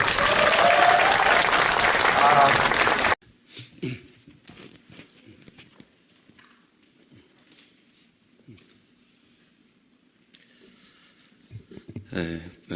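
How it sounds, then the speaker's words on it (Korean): Audience applause at a public speech, a dense burst of clapping for about three seconds that cuts off abruptly, followed by a quiet room with scattered small noises. "박수 한번 주십시오"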